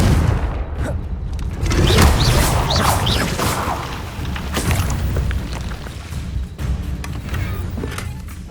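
Confringo fire spell blasts in Hogwarts Legacy land as repeated booming explosions and crashes over continuous rumbling game noise, loud and dense with no clear gaps.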